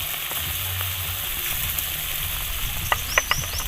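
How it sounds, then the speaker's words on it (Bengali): Ground dry spices of chili powder and turmeric, with salt and a little sugar, fry in a pan, giving a steady close sizzle throughout with a few light scraping taps of stirring near the end. "আবারও আমি ভালো করে মশলার সাথে এই সমস্ত শুকনো মশলা কষিয়ে নেব।"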